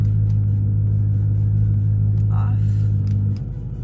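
A BMW E92 M3 with a loud aftermarket exhaust idles with its valve open, producing a deep, steady, close rumble that drops to a quieter tone near the end, while a voice talks over it.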